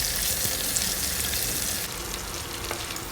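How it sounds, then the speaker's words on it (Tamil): Ten small onions, cut in half, sauté in a pan with curry leaves, chilies and garlic, giving a dense, steady, close sizzle that softens slightly partway through, with no talking. "அதை போட்டுட்டு வெங்காயத்தை நல்லா வதக்கி விட்டுக்கோங்க."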